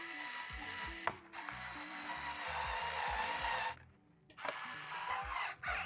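Ratchet screwdriver clicking steadily as screws are driven to fasten the legs onto a TCL X11L TV stand, in close, busy runs of clicks broken by two short pauses.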